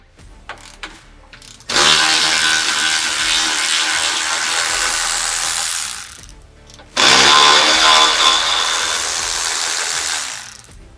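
Power tool removing two factory bolts from a Polaris RZR Pro R 4 during aluminum door installation, heard as two loud sustained bursts of whirring ratcheting, about four seconds then three seconds long, separated by a brief pause, with no talk.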